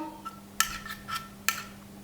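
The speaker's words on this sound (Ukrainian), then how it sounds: "Та все добре перемішуємо, щоб вся згущенка добре розчинилася в молоці" A spoon stirs condensed milk into microwave-warmed milk in a bowl, making a few sharp, close metallic clinks against the bowl with soft scraping between them, over a quiet background hum.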